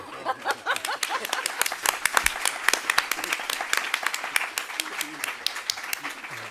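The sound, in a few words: audience applause at a round table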